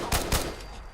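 Two quick, loud bursts of gunfire in Fallout 4 crack out close together, then fade into a low, lingering tail with no voices.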